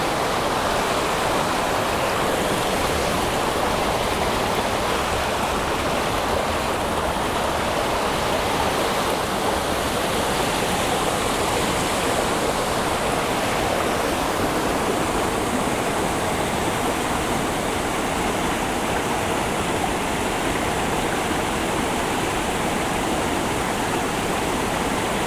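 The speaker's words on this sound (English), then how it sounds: "Beautiful waterfall" Continuous roaring rush of a waterfall on Madeira, a dense, loud, unbroken wash of falling water heard close by for the whole stretch, with no voices.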